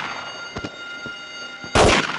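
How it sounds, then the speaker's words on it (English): Quiet in-game ambience with a couple of soft thumps, then one loud, abrupt gunshot from a Nintendo 64 video game near the end, trailing off briefly. "Gunshot!"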